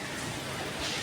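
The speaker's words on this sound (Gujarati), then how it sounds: "જો વરસાદ ચાલુ જ છે." Steady rain falls outside during a cool, windy spell, a faint, even hiss of drops on surfaces with no voices over it.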